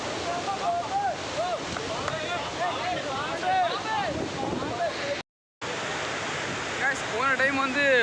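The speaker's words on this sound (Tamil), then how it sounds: "அங்கே பாருங்கள் மேலே விழுற தண்ணி எவ்வளோ சாரல் அடிக்குது." Athirappilly waterfall in full flow gives a steady, close broadband roar of rushing water, with people talking and shouting loudly over it and a brief dropout near the end.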